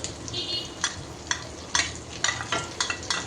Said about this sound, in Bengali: থেতো করে শুটকিটা তেলে দিয়ে দিলাম, একটু ভেজে নিচ্ছি